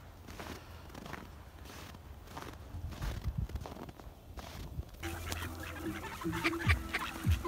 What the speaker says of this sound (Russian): Уточки ко мне подбежали